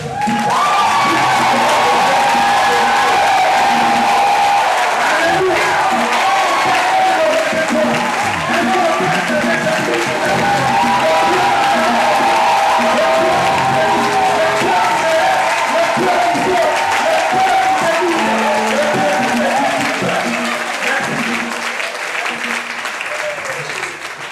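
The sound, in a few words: church congregation cheering and acclaiming God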